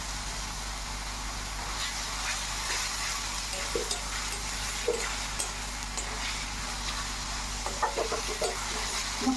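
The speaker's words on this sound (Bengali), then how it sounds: "মশলাটা 5 মিনিট ভেজে নিব।" Masala spice paste with chopped tomato frying for egg curry, a steady close sizzle with occasional scraping stir clicks and no talking.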